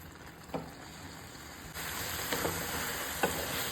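Grated carrot cooking in milk in a pan gives a soft, steady sizzling hiss that grows a little louder partway through, with a few faint stirring clinks and no voices.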